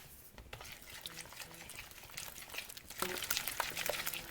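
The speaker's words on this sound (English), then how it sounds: "And one last ingredient for a nutty flavor, sesame oil. Okay. And we're going to mix all this together." Kimchi ingredients being mixed together with sesame oil, wet squelchy stirring and sloshing at a steady close level, getting busier toward the end, with no talk.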